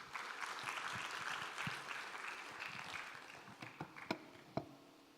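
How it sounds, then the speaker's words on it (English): Symposium audience gives a steady round of applause from a distance, fairly quiet and even, tapering off into a few scattered, sharper claps at the end. "Let's give him a warm round of applause."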